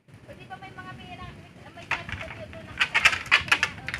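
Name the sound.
pet birds cooing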